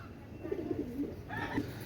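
A pair of Pakistani Lakha pigeons coo close by, giving several soft, low throaty coos in a loose rhythm over a faint background hum.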